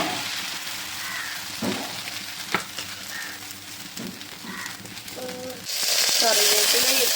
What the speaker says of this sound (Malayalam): ഫ്രൈ ചെയ്യാം.